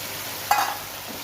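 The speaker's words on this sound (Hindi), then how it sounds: "इसके अंदर चिकन डाल के भूनेंगे" Chicken fries in a spiced masala in a pan with a continuous close sizzle and a single stirring scrape partway through. No one speaks.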